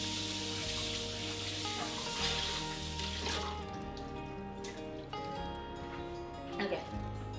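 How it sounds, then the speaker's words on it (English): Freshly boiled hot water pours and hisses steadily into a container while making teff injera, a continuous rushing sound over a low background hum. "So now we're gonna add the hot water."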